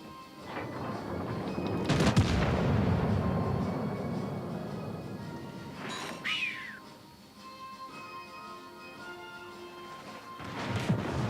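In World of Warships: Legends, a warship launches torpedoes with a loud whooshing boom, followed by a sustained rumbling roar, a sharp whistling burst midway and another rising blast at the end.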